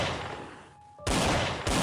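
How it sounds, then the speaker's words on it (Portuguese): Two loud gunshots fired from horseback by a rider fleeing, each sharp broadband blast filling the close, abrupt and alone with no talk. "e deu 2 tiros."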